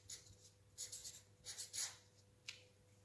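A pencil or pen writes a children's story paragraph on paper in a few faint, scratchy bursts of strokes, very quiet and close, with no talking.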